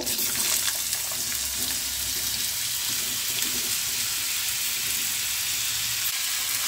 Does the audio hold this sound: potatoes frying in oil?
yes